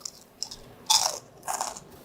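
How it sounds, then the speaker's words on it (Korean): Crisp bites into sugar-coated fried pepper bugak, a Korean fried chili snack, give two or three sharp close crunches followed by crackly chewing, alone with no talk. "옷이 너무 잘 입혀져서 너무 바삭바삭하니 너무 맛있어요"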